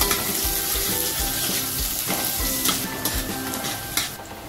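Onion dropped into hot oil with bay leaf and black cardamom sizzles loudly and closely, with rhythmic scraping stir strokes through the crackle and no voices.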